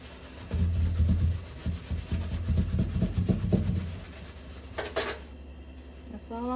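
SOS pads scrubbing stains off the inside of an oven, a run of close, uneven rasping strokes that fades out after about four seconds and is followed by a few brief clinks.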